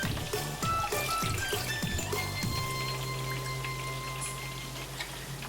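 Water is poured into a pan for a sauce in a home kitchen, with close, trickling and splashing sounds at the start, easing into a quieter steady simmer-like hum with occasional faint ticks.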